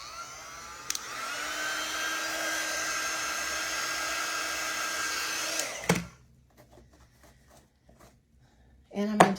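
A handheld dryer whirs steadily and close while drying paint on a chalk stencil dog sign. It runs for several seconds and then cuts off, leaving quiet handling noises.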